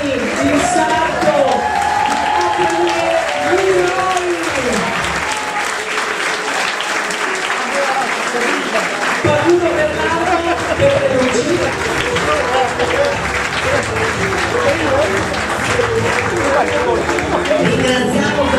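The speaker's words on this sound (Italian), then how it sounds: "Poi un grande, ma grande, grande applauso per Maurizio Peligioni, il sarto." Fashion show audience applauds a tailor after a runway presentation, continuous crowd clapping mixed with chatter and some cheering, with voices and a tonal sound heard over it early on.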